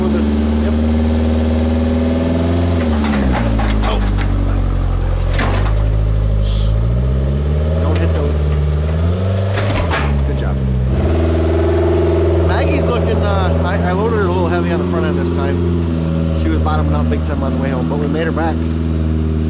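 A Can-Am Maverick X3 side-by-side engine runs loud and close as the vehicle comes off a trailer, holding a steady rumble with repeated rising and falling revs.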